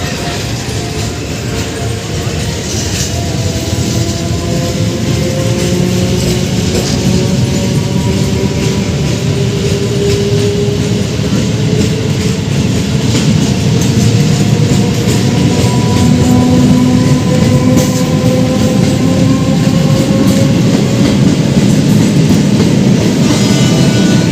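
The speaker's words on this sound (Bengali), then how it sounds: "এই লোকালটা চলে যাচ্ছে হাওড়া জংশনের দিকে সাতটা কাছি হয়ে হাওড়া চলে যাবে" A local train pulls out of Bankranayabaz station in India toward Howrah Junction, a loud continuous rumble of rolling wheels and carriages with faint rising tonal whines and clatter as it gathers speed nearby.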